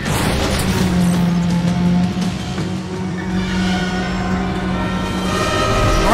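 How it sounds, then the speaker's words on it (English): A train rushes past during a race in the Need for Speed The Run video game, a loud sustained rumble with steady low tones and rattling that build toward the end, with no talk over it. "Train!"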